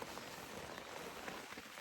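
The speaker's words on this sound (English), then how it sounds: "it's pouring rain" Dense, steady hiss of heavy rain pattering on a surface during truck camping, constant and fairly faint, with no voices.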